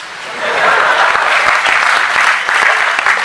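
An audience at a youth poetry recital in Bhopal breaks into loud, sustained applause, dense clapping swelling in and holding strong with crowd noise beneath.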